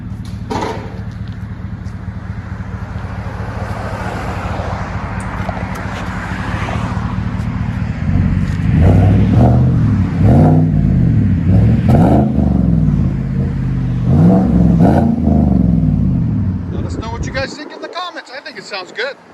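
Chevy Silverado 5.3L V8 with a high-flow catalytic converter, its exhaust idling with a deep rumble, then revved in several loud repeated bursts before cutting off; wind noise in places.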